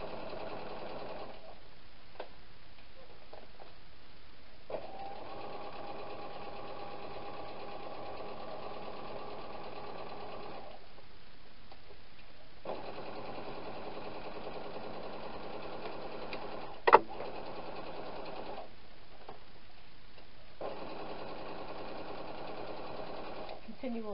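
A sewing machine runs in several steady bursts of stitching, with short pauses between runs, as it sews a fabric peg bag together. One sharp click stands out near the end.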